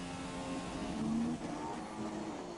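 An F1 car in the F1 2017 racing game at Great Britain holds full throttle, a steady high engine whine with a rising pitch sweep mid-clip and no talk.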